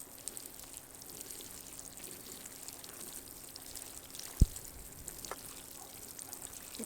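Water is poured onto a banana plant in a hot backyard garden, a soft continuous trickle and hiss with one sharp tap near the end, faint and close.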